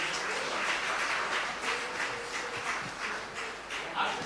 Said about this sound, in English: So let your applause be going.